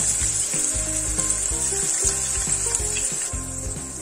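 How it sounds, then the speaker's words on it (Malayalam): Ginger garlic paste sizzles loudly in hot oil in a frying pan, a continuous bright hiss broken by rhythmic scraping strokes of stirring, with no voices. "നമുക്ക് അതിലേക്ക് കുറച്ച് എണ്ണ ഒഴിച്ചു കൊടുക്കാം. നമുക്ക് 1 ടേബിൾ സ്പൂൺ ഇഞ്ചി വെളുത്തുള്ളി പേസ്റ്റാണ് ഇട്ട്"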